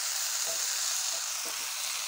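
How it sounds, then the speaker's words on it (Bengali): Potatoes fry in a pan, giving a steady, close hiss of sizzling oil with faint soft stirring scrapes underneath. "এই আলুটাকে ভাজে দেখবেন বন্ধুরা"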